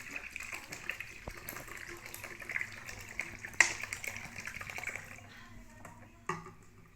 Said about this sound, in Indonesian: Diaduk sekitar kira-kira 1 menit ya, biar homogen